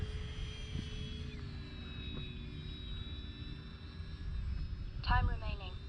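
An E-flite RV-7 radio-controlled model airplane motor at low throttle, a thin steady electric whine with a faint rumble, held at a constant pitch in the distance, with a voice talking over it.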